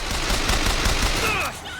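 Rapid gunfire from a repeater or SMG in Bioshock Infinite, a dense, loud burst of shots that fades out near the end as tonal game sounds come in.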